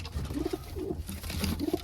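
Tumbler pigeons cooing inside a loft, a few soft repeated low coos close by against a steady background hum.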